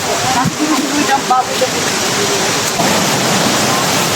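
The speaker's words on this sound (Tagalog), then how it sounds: "Punta kami ng Tagbibinta Falls. Dito yan sa Maragusan, Davao de Oro." Steady, loud rushing roar of the 120-foot Tagbibinta Falls in Maragusan, Davao de Oro, a dense wash of falling water filling the whole moment, with faint voices buried beneath it.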